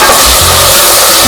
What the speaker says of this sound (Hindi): सारे मसाले हम इसके अंदर डाल देंगे। इसको भूनेंगे